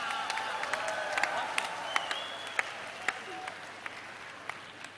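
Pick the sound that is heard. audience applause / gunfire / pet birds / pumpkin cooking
audience applause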